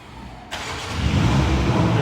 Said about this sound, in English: And that's your car starting up.